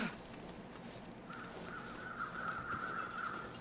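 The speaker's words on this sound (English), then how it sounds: "Those are more weather-changing crows." Crows caw faintly in a snowy wilderness in The Long Dark, repeated harsh calls from a distance over a low wind-like background hiss.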